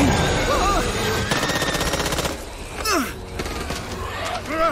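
Rapid bursts of gunfire in Back 4 Blood rattle in quick succession, loud and close, with shouted voices and whooshing effects mixed in.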